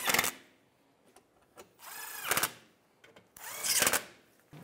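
Power tool tightening bolts during a belt component kit replacement on a 2008-2016 Chevrolet Cruze, three short whirring bursts of an impact or drill with quiet gaps between, close and moderately loud.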